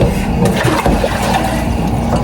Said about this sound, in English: I actually rinse it off with water first to get all that hard debris out